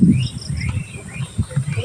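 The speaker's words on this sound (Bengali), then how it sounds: "এদিকে কি সুন্দর পাখিগুলো উঠছে গো" Small birds chirp and tweet outdoors on an afternoon in a natural setting, their thin, high calls steady over a low rumbling background.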